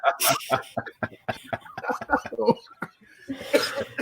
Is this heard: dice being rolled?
no